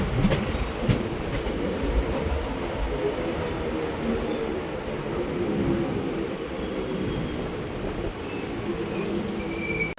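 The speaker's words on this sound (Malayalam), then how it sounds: "ട്രെയിൻ കരാട്ടകി റെയിൽവേ സ്റ്റേഷനിലേക്ക് എത്തിക്കൊണ്ടിരിക്കുകയാണ് കേട്ടോ" A diesel passenger train rolls into Karatagi railway station, with a steady rumble of wheels and carriages and a faint high squeal of wheels over the rails. Insects chirp in the background throughout.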